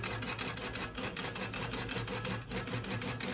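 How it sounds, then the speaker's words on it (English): A longarm quilting machine runs a basting stitch across a jelly roll quilt, giving a loud, steady, close mechanical chatter with rapid rhythmic ticking throughout and no talking. "I'm actually going to put it in basting stitch to do my channel lock across."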